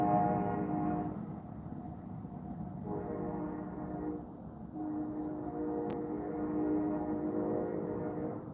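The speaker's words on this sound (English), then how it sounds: "You have a train going by you too." A train rumbling past, with a low continuous roar of wheels and cars that swells and eases over several seconds and a faint horn-like tone, heard from some distance.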